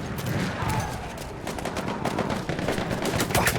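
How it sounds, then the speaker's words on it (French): Hostile machine gun fire rattles in Battlefield 1, rapid bursts of cracking shots mixed with other gunfire across a trench battle, dense and continuous. "Une mitrailleuse hostile."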